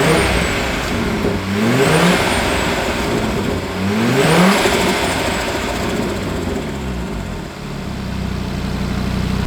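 An Audi RS3 DAZA engine runs loudly nearby, with two sharp revving bursts rising and falling over a steady running drone.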